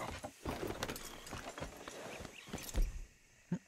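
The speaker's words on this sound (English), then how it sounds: "let's see what happens if I get on my horse" Hooves clip-clop on a horse in the video game Red Dead Redemption 2, a few close, irregular footfalls with game ambience and no talk.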